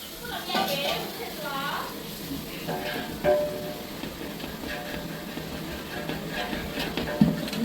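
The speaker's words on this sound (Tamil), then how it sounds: "இப்போ நல்லா வெங்காயம் நல்லா வதங்கிட்டு அடுத்து இஞ்சி பூண்டு பேஸ்ட்டு போடுறாங்க" Ginger garlic paste frying with sautéed onions for biryani, a moderate sizzle with occasional stirring clinks heard under continuous talk.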